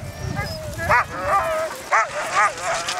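Sled dogs bark and yip in a team at the North Pole, several sharp bursts in quick succession over steady outdoor rumble, with a voice talking nearby.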